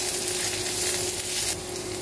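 Onion sizzles in olive oil in a pan at home, a close, steady hiss of frying that eases off slightly near the end, with no one talking.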